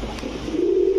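A Saharanpuri pigeon, a worked Indian breed, coos in a low steady hum that swells and holds toward the end, close and fairly loud with no talk over it.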